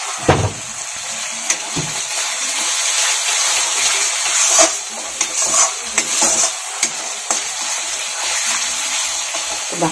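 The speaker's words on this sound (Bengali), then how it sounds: "ভালো করে কষিয়ে নিব।" Egg curry masala with ground coriander and chicken masala being stirred and sautéed in a pan: continuous close sizzling frying with repeated scraping strokes of a spoon, fairly loud and alone.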